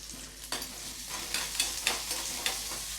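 Sliced sambar onions (shallots) fry in a pan with a close, steady sizzle. Repeated stirring strokes scrape through it at an uneven rhythm.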